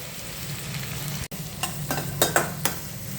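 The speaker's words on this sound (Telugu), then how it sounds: "కట్ చేసుకున్న ఉల్లిపాయలు ఆల్రెడీ మనం ఎగ్స్ వేగించుకున్న నూనెలోనే ఉల్లిపాయలు వేసుకోవాలి" Chopped onions tossed into a pan of hot oil already used for frying eggs, for a kadai egg chicken curry, give a steady close sizzle broken by a few stirring scrapes and clatters.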